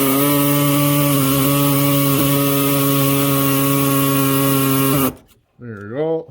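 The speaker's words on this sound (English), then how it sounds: "When I cut all these lines, I'm cutting them right at the fitting." A power cutting tool buzzes steadily as it cuts a rusty brake line right at the fitting on a Chevy 6.5 diesel. The loud, even whine runs for about five seconds, then stops and someone speaks briefly.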